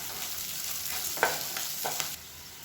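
Onions and tamarind sauté in a hot pan, giving a steady background sizzle broken by a few soft scrapes and clicks of stirring.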